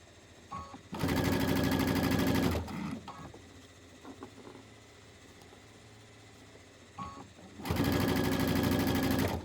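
Sewing machine stitching fabric pieces for a quilted winter block, two loud sustained bursts of rapid mechanical whirring about 1.5 seconds each, separated by quieter handling noise and soft clicks.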